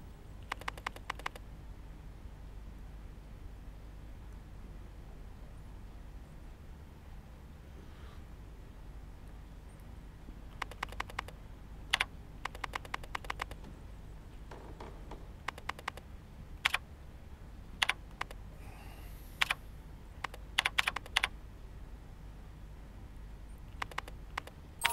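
Keystrokes on an in-game computer keyboard in the horror game Daymare 1998, coming in short irregular bursts of crisp clicks separated by pauses over a low steady ambient hum.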